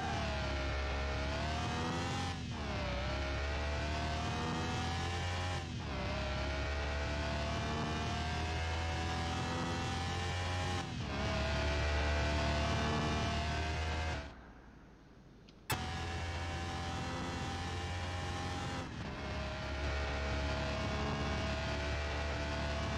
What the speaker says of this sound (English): we're going to rev it up, and then we're going to let the brakes off and go and see what top speed we can get